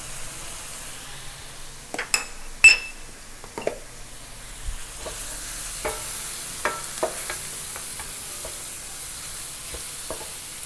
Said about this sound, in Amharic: አንድ ማንኪያ በርበሬ